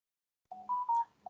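A phone sounds a short series of clear electronic notification beeps, three or four tones in quick succession, close and alone in silence.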